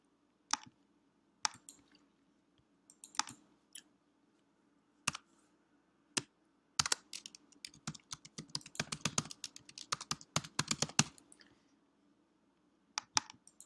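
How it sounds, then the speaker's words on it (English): Keystrokes on a computer keyboard, close and clear, starting as scattered single presses and then building into a fast, dense burst of typing before trailing off to a few final taps, with no voices. "Let me just type it in manually."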